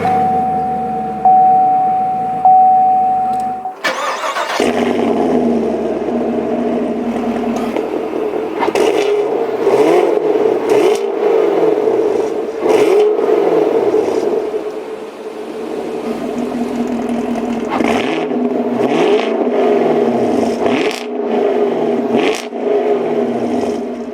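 2019 Chevrolet Camaro SS, 2SS with 10-speed, starting up: a chime, then a sharp crank and loud roaring flare settling into a deep rumbling idle with occasional throttle blips.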